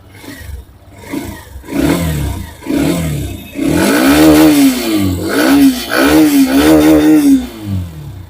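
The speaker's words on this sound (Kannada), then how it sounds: "ನನಗೆ ಈ ಬೈಕ್ನ ಸೌಂಡ್ ತುಂಬಾನೇ ಇಷ್ಟ ಆಗಿತ್ತು. ಒಂದ್ಸಲ ಆನ್ ಮಾಡ್ತೀನಿ, ಯಾವ ತರ ಸೌಂಡ್ ಇದೆ ಅಂತ ಕೇಳಿಸ್ಕೊಳ್ಳಿ" A Hero Xtreme 125R motorcycle starts up close by, with a few cranking thumps before the engine catches and settles into a loud, steady idle with rhythmic revs and no talking.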